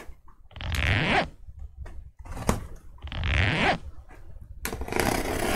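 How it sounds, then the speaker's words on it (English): A zipper on a sports card case is pulled open in several long, close ripping strokes separated by short pauses, with a final sustained pull. No voices are heard. "We have now moved on to overkill on the zipper."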